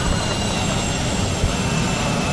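Helicopter engine winding down in Arma 3, heard as a loud, dense, steady turbine whine and rotor rumble through a brief stretch.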